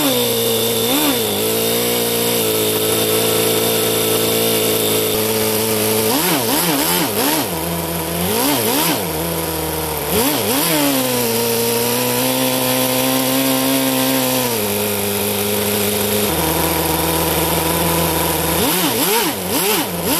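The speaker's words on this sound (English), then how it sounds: "let the engine cool down and do one more short test run while filming it with the thermal camera" A four-cylinder water-cooled nitro RC engine on a test run, a loud, continuous high-pitched buzzing drone that repeatedly revs up and back down, with throttle blips wavering the pitch before it settles into steady running.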